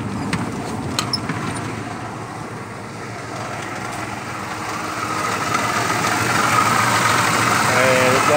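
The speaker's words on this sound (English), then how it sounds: "Now you can definitely hear a rattling sound." A Ford Crown Victoria engine idles with a suspected timing chain rattle near the passenger-side valve cover, a steady close rumble with a busy metallic clatter that grows louder as the heater comes on.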